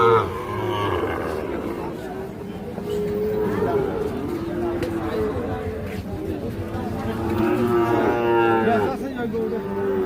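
Cattle moo at a busy rural livestock market selling Sahiwal bull calves, long low calls rising and falling through the clip while people talk nearby.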